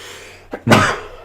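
A single short sneeze, close and loud: a faint catch of breath first, then a sharp burst that trails off quickly.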